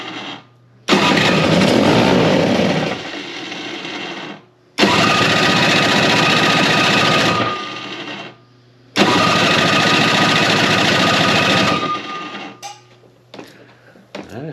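A snow blower engine, primed but reluctant to start, cranks and catches three times in long, loud, close bursts, each dying away into a low hum and brief silence.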